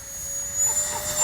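A Freewing 64mm A-10 radio-controlled electric ducted-fan jet lifting off without flaps into the wind, a steady rushing, whining roar that swells slightly over a brief moment.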